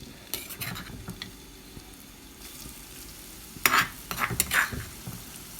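Chili paste being stir-fried in a little oil over a hot flame for a Thai-Lao snakehead fish curry, giving a soft steady sizzle with intermittent scraping stirs that grow louder and busier toward the end.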